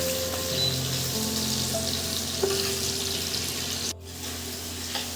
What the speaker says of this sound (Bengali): এবার এর মধ্যে দিয়ে দিচ্ছি কেটে রাখা পেঁয়াজ